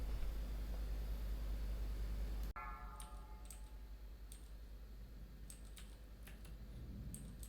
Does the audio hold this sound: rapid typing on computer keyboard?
yes